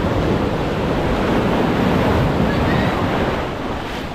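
Large waves surge close beside a small service boat during a typhoon and monsoon storm, a steady loud roar of surf mixed with gusting wind noise across the whole stretch, easing slightly near the end.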